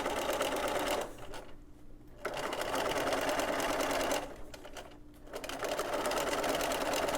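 A sewing machine runs steadily while stitching cording onto fabric without pins, close and rhythmic, stopping twice briefly before starting up again.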